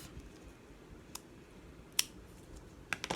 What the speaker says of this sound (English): I took my scissors and I cut this in half.